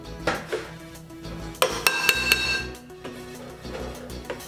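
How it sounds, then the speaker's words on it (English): A hammer striking small metal pieces to pound them flat, several sharp ringing clanks spaced irregularly, with a tight cluster of hits in the middle and a few lighter taps before and after. "And I thank you, Noah, for the idea of pounding these flat"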